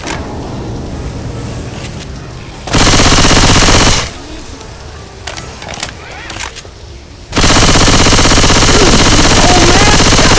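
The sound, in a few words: gunfire in Left 4 Dead 2 video game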